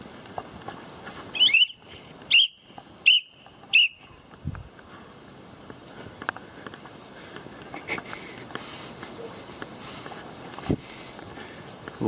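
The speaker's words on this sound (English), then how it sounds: "All we can hear is the bloody whistle." A referee-style whistle blown at an outdoor metal-detecting club family day: four short, sharp shrill blasts in quick succession, then a soft outdoor background of footsteps, faint knocks and distant activity.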